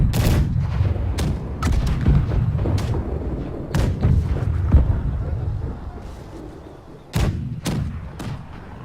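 Ship cannons fire a barrage in the naval combat game Blackwake, with a series of loud, heavy booms, some in quick pairs, each rolling off into rumble, and faint voices in the background.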